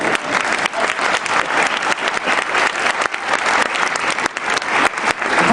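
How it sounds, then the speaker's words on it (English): A school concert audience applauds for standing students, with dense, steady clapping throughout and loud, close, even energy. "Let's give you a round of applause"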